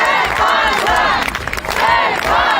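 A large crowd in Gyumri cheers and shouts joyfully outside the diocesan headquarters while welcoming Archbishop Mikael Ajapahyan, a dense, loud roar of overlapping voices that surges, dips briefly, then swells again.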